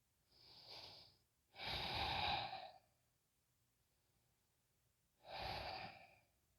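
Three separate breaths exhaled during a yoga session, close and airy, with a soft short one, then a longer fuller sigh, a quiet pause, and a final strong exhale, each with no voice.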